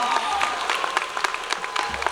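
A graduation crowd at Enterprise High School claps for the class of 2024, continuous mid-distance applause with occasional louder single claps, faint voices underneath.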